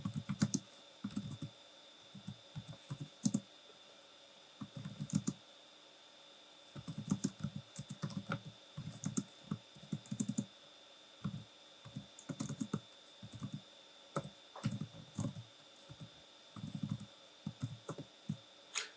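Computer keyboard typing while writing a pwn exploit script for a return-instruction-pointer challenge: bursts of close key clicks in uneven runs with short pauses, over a faint steady hum, no talk.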